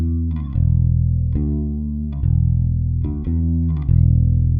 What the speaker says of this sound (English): a swirly verb, which is basically just a reverb and a chorus pedal